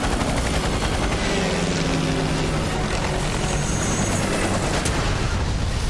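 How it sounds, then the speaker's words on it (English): In Resident Evil 6, a helicopter thrums steadily and loudly while rapid bursts of gunfire crackle through the dense combat din. A faint voice sits beneath the noise. "How tough is this chopper?"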